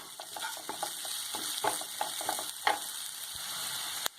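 Capsicum frying in a pan for soya chilli, stirred with a spatula: a steady sizzle runs throughout, broken by irregular scraping clicks and a sharp knock near the end, with no talking.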